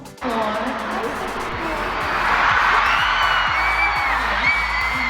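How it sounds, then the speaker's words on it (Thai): A large concert crowd cheers and screams continuously in Singapore, a dense roar with high whoops rising above it, fairly loud and sustained throughout. "แล้วคนก็กรี๊ดกราดกันเกลียวกราวเลยนะจ๊ะ"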